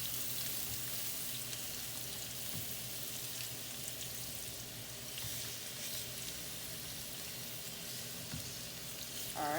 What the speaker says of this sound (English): we want this to sizzle on both sides.